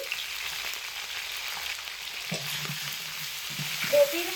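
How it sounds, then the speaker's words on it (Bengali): Cauliflower florets frying in oil over medium heat with a little salt, giving a steady soft sizzle with occasional stirring clinks and scrapes near the end, no talking. "আমি কপিগুলোকে লাল লাল করে ভেজে নিচ্ছি"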